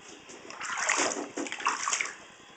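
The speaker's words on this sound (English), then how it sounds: "Are you enjoying your bath?" A small boy splashes and sloshes in bath water as the tub is washed and filled, with steady close splashing that swells and dips throughout.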